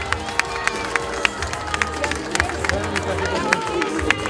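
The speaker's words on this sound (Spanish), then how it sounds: "¡El aplauso!" A crowd at an anniversary celebration in Bajos del Maipo applauds the newly crowned pageant queen, scattered sharp claps over lively chatter and background music.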